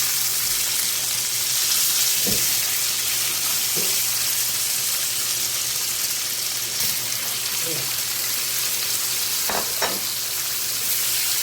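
Chicken gizzards dropped into a pan of cooked garlic, onions and ginger give a steady broadband frying hiss throughout, with a few faint stirring clinks and scrapes near the start and end, and no voices.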